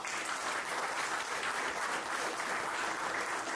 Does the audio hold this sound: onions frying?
no